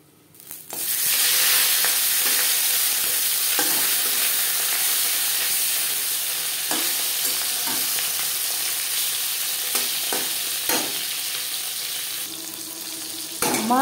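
Bata fish sizzling and frying steadily in hot refined oil, a loud continuous crackle with occasional sharper spits, carrying on alone for the whole stretch.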